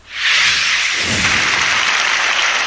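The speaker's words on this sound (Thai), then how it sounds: "เสียงปรบมือดังกึกก้องในห้องแกรนบันรูม ของแกรนรอยัลโฮเทลกลางกรุงสตอกโฮมของสวีเดน" Loud, dense applause fills the Grand Ballroom of the Grand Royal Hotel in Stockholm, rising quickly from near silence into a sustained, thick roar of many hands clapping at once.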